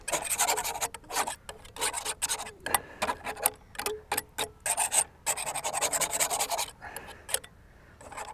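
A painting knife scrapes down oil paint on canvas outdoors beside the Helford River in evening light, giving short, irregular rasping strokes in quick succession, close and fairly quiet, with brief pauses between them.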